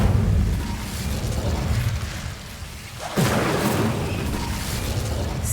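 Incendio fire spell cast in Hogwarts Legacy, a sudden whooshing burst of flame that flares midway through over a steady, rumbling game ambience.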